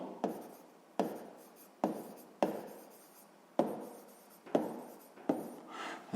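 A pen scratches on paper while a sixth-grade math exercise is written out, making about seven quiet, close, rhythmic stroke bursts with short pauses between them and no talking.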